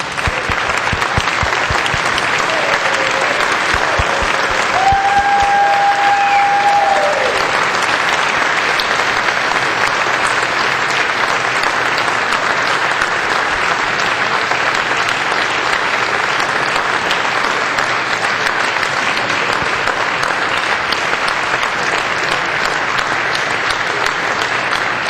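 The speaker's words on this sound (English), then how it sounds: "So please give them our applause." A legislative house floor session fills with sustained applause for a visiting coach and team captains, loud steady clapping throughout with a brief tonal whistle or squeal partway through.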